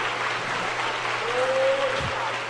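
A church congregation claps during a sermon, giving a short burst of steady, even applause at moderate volume.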